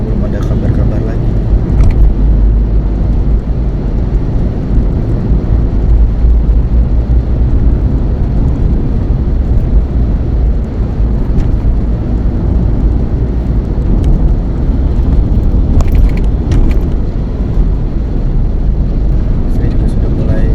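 Heavy road traffic dominated by large vehicles pours out of the Bekasi Timur toll exit, a loud, continuous, close rumble of engines and tyres with no breaks.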